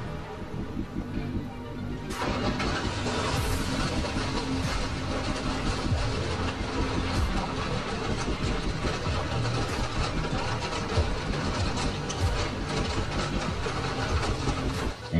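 A train slows toward a stop with a loud, continuous rumble of engine and wheels on rail that stays steady and close throughout, with no voices.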